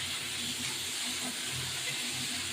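Garlic cloves frying with onions in oil for a fish dish give a steady, faint hiss and sizzle that runs evenly throughout, with no talking.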